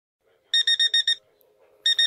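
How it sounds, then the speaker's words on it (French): Alarm clock ringing at night in a bedroom, sounding in a rapid series of five loud electronic beeps, a pause of quiet, then two more beeps starting again. "mon réveil sonne"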